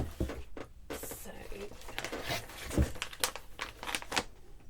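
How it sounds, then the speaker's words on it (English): Plastic bags holding bamboo spinning fibre crinkle and rustle close up as they are handled, with intermittent crackling bursts and soft thumps while a person talks over the handling. "This might be a bit rustly because it's all in plastic bags"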